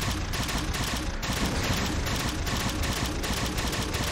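Continuous gunfire from a weapon in Halo 4, a dense, steady stream of rapid shots with no pauses, loud and close throughout.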